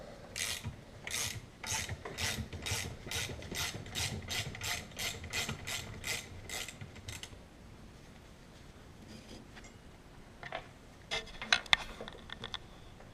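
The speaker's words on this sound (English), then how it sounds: "so we're just going to grab our ratchet and just run these bolts out" Rapid ratchet clicks come in repeated bursts as bolts are run out of the front wheel of a Bombardier DS650 (Can-Am) ATV, close and fairly loud, then fade into quieter handling noises and a few sharp taps.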